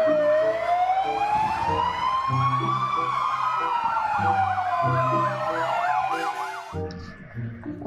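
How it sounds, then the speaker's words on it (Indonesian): A toy fire truck's siren wails up and down continuously, bright and electronic, with a warbling pattern over a steady synthetic beat, loud and close. "ada truk pemadam kebakaran"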